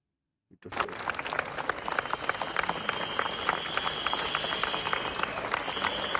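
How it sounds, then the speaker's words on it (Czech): A crowd greeting Petr Pavel's arrival bursts into applause after a brief silence, steady dense clapping that stays loud, with a faint high whistle running through it. "když tam Petr Pavel přišel, tak kromě potlesku tam zazněl i nějaký pískot"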